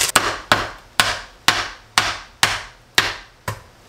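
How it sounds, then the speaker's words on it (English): A hammer, used in place of a mallet, strikes a bag over and over to punch holes in it during home dinner cooking. There are eight sharp, close thuds in steady succession, about twice per second, and no talk. "Just realized I also don't have a mallet, but what I do have is a hammer."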